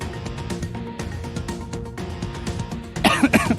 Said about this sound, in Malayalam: ഞാൻ ചുമക്കുകയായിരുന്നു.